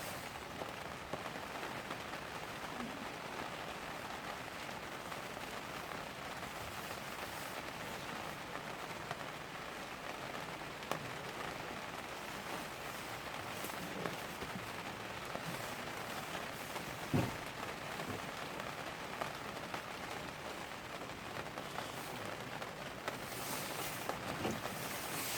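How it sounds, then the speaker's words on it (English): Rain drums on a polytunnel roof in a steady, dense patter that continues evenly throughout, soft and close, with occasional louder drips and no talking. "I could just put them outside with this rain."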